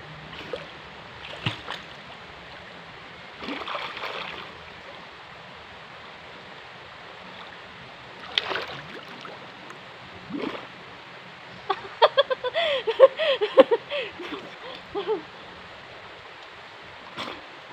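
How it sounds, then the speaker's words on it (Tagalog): A favorite river with a rocky, stony bed rushes along in a steady broadband wash, with occasional louder splashy bursts and brief chirping, clucking calls rising over the flow. "Ito yung paborito kong ilog."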